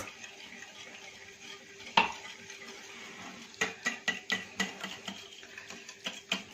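A spoon stirs yogurt and oil batter for baklava dough, giving a series of soft rhythmic clinks and scrapes against the bowl after one sharper knock, close and fairly quiet.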